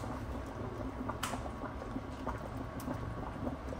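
A pot of bone broth bubbles and simmers steadily, a low continuous boiling rumble with soft gurgles and occasional faint clicks.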